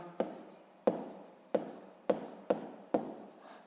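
Hand writing on paper, likely pen or chalk strokes during a math lesson, heard as six sharp taps each followed by a brief scratch, spaced about half a second apart, quiet and close with no talk.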